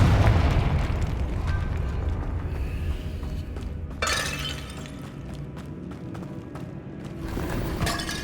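A Confringo spell explodes in Hogwarts Legacy with a loud burst and a shattering crash near the middle, followed by crackling debris, over a steady rumbling game backdrop.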